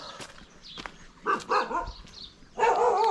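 A dog barks in a small mountain village near Rishikesh, India, a few sharp, separated barks and yips at moderate distance, with quiet gaps between them.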